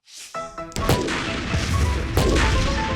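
A C4 charge detonates with a sudden, loud, broadband blast that rolls into a sustained roaring rumble, with a second sharp crack about a second and a half later, preceded by a brief tonal sound.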